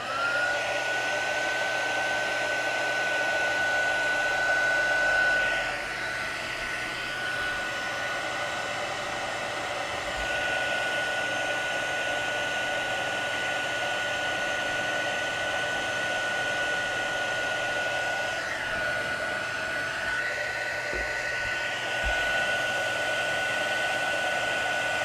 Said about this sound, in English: I'm just gonna switch on the heat tool.